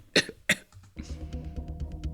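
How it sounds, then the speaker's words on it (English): A man coughs twice, sharp and close, then a low rumbling murmur follows. "And he's coughing."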